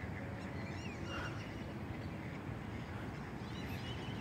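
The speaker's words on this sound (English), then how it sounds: "There goes more birds." Geese or ducks honking and quacking in a park beside water, faint calls scattered through a steady outdoor wash of ambient noise with no talking.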